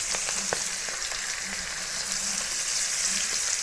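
Onion and chili frying in hot oil in preparation for fish, a steady close sizzle with crackling pops throughout and no talking.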